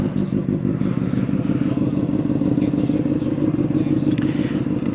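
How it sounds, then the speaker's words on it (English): A motorcycle engine idles and runs steadily up close, a loud throbbing, constant rumble with faint rattles and no clear revving across the whole stretch. "let's go ahead and turn on the bike."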